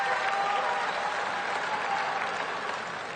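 Crowd at a 2018 Beijing quarterfinal tennis match applauds, a dense, loud wash of clapping that slowly fades, with a voice faintly underneath.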